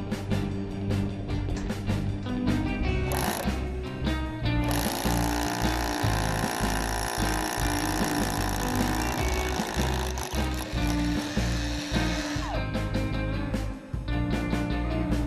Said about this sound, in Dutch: Boor het nodige gat.